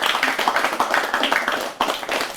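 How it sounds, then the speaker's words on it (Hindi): An audience at an awards ceremony breaks into loud, dense applause, many hands clapping together continuously at close range, with no voices over it. "जोरदार तालियां सबसे पहले।"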